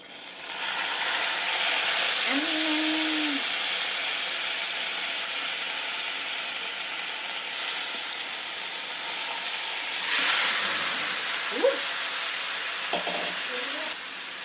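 Marinated chicken pieces frying in hot oil in a home kitchen, a steady broad sizzle and hiss that runs throughout, with a few faint clinks and short vocal sounds near the end.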